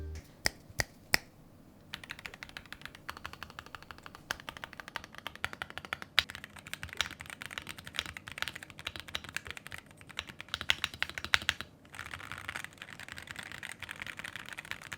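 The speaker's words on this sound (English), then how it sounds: "I actually put them inside of the case. And this is what it sounds like." Rapid typing on an Optimum x Wooting mechanical keyboard, crisp clicky keystrokes in quick irregular bursts, close up, with a brief pause near the start and no talking.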